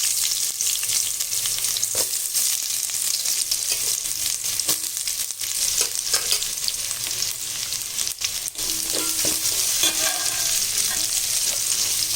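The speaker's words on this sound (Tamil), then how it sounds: "இதிலே நம்ம வெங்காயம் போட்டுடலாம்." Onions fry in hot oil with cinnamon, cloves and cardamom for a vegetable biryani, giving a loud, continuous close sizzle with occasional stirring scrapes.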